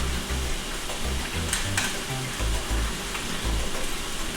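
Tomato paste and pasta sauce fry in a pan for homemade lasagna, giving a steady close sizzle and crackle throughout, with a few low bumps and thuds from stirring and no talking.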